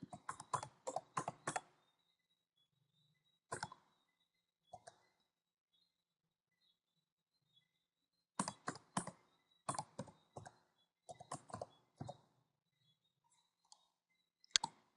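Bursts of typing on a computer keyboard while entering a password for a server's shared secret, clusters of close, crisp key clicks separated by pauses of silence.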